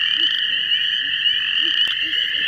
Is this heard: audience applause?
no